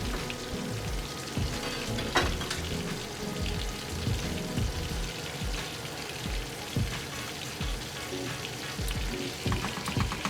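Chicken frying in a pan for chicken parmesan, a steady crackling sizzle with small pops spread across the whole stretch, moderately loud and close, with no voices over it.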